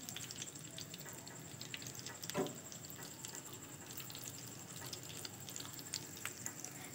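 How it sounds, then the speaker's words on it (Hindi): Chicken potato rolls fry in hot oil, a faint, continuous low bubbling with small scattered pops and crackles throughout, heard quietly and alone. "ये देखिए हमने सब रोल्स को इस ऑयल में फ्राई कर रहे हैं हम"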